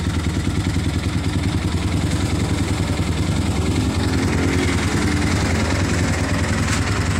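A Honda XR 200 motorcycle idles after a cold start, its single-cylinder engine thumping in a steady, even rhythm, loud and close throughout with no talking.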